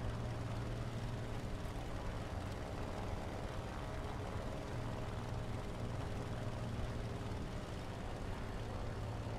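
A propeller airplane engine in a flight simulation game drones steadily and loudly throughout, with a constant low hum and no talking over it.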